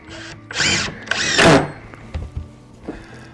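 A power drill drives screws into a wooden mount block, giving several loud, short whirring bursts close by, followed by quieter handling clicks and knocks.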